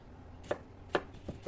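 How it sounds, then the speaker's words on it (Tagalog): Knife chopping parsley on a cutting board, three crisp, quiet strikes spaced unevenly about half a second apart against a hushed kitchen background. "So, kailangan natin i-chop yung parsley."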